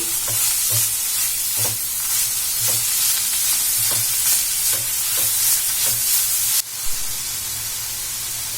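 A spoon stirs grated beetroot and potato into dosa batter in a hot pan, giving steady scraping strokes over a constant sizzling hiss, close up and with no voices.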